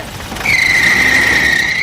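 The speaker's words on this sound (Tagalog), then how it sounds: "Kapag ganyan ang tunog guys, ibig sabihin na meron lang maluwag na belt dyan." A loose drive belt on an Isuzu Hilander with a 4JA1 engine lets out a loud, steady high-pitched squeal that starts abruptly after a brief engine rumble and holds continuously.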